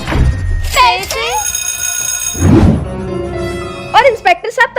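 A mobile phone rings in a comedy skit about a poor maid and a rich madam, its bright warbling electronic tone repeating in bursts between loud voices and bumps; people speak around it.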